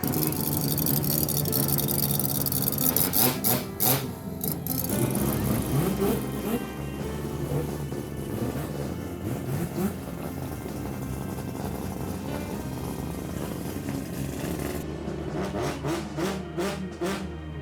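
Two Volvo drift cars idle and rev together at a track event, a loud continuous engine drone with repeated throttle blips swelling and falling throughout, no voices over it.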